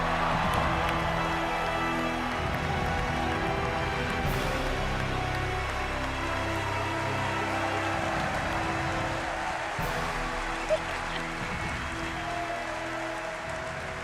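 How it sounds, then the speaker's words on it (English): An audience at a University of Michigan event applauds and cheers for Desmond Howard, a dense, steady wash of clapping that holds at an even level for the whole stretch. "Please give a big round of applause for our own human highlight reel, Desmond Howard."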